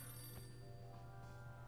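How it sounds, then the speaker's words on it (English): A telephone rings in the point-and-click game Sam & Max Save the World, a steady electronic ring over a low hum, faint and continuous throughout. "What the phone ringing?"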